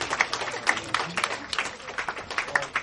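An event crowd claps for a judge being introduced, a lively burst of applause with sharp individual claps, fairly close and without talk.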